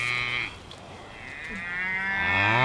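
Cattle on a pasture give two long, loud moos close by, the first tapering off and the second rising and swelling as it goes, with no talking over them.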